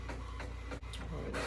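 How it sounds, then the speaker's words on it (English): An HP inkjet printer runs a print job nearby, giving a steady mechanical whir with brief pauses and shifts as the page feeds through, heard alone. "So let's see how I print out with the ink that's in there already."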